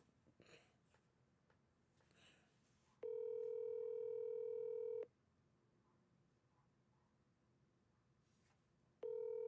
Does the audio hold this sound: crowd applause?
no